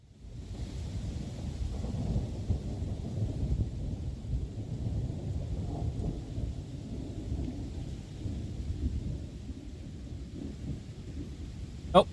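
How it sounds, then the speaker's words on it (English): Thunder in the video game Planet Coaster 2: a long low rumbling roll with rain-like hiss, steady and fairly loud throughout, ending in a sharp crack. "There's the thunder."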